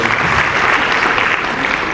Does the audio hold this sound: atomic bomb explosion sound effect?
no